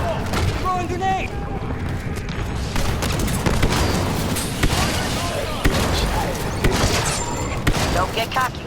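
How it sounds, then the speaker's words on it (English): A grenade blast in Star Wars Battlefront II on Crait, one burst among constant gunfire, booms and chaotic battle noise, loud and dense, with voices calling out over the fighting. "Throwing grenade!"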